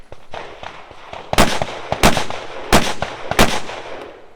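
Four loud, sharp rifle shots crack out at a shooting team match, evenly spaced about two-thirds of a second apart, close and prominent, with faint footsteps in between.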